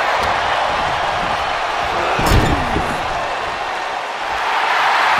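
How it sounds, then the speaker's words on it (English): A loud arena crowd roars steadily in the wrestling game WWE 2K24, with a dense wash of cheering throughout and a sharp slam-like impact near the middle. "The sound of this crowd is deafening, and he's asking for more."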